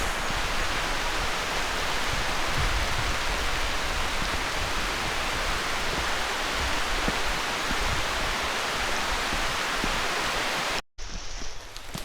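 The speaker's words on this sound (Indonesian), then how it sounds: "Hujan nih, kabut sampai sini." Heavy, steady rain pours down on a foggy mountain trail on Gunung Gede, a dense hiss filling the whole stretch before a brief cut near the end.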